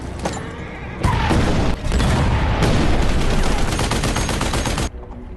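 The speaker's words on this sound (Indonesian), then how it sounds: "hujan tembakan dan serangan meriam yang dilancarkan sang kapten" Heavy gunfire and cannon fire from a war action film roar in sustained, dense bursts of rapid shots and booming blasts, loud and close, with a brief lull before the barrage resumes and then cuts off.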